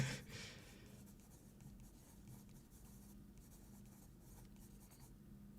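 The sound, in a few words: writing by hand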